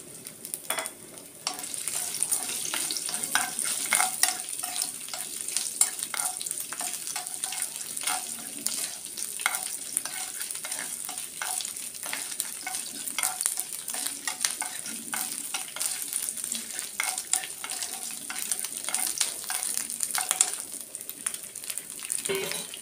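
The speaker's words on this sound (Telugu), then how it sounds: "నెయ్యి వేడైపోయింది. చిన్నగా కట్ చేసి పెట్టుకున్న కొబ్బరి ముక్కలు" Small cut coconut pieces fry in hot ghee for a Varalakshmi puja offering, a steady close sizzle with frequent stirring clinks and scrapes running throughout.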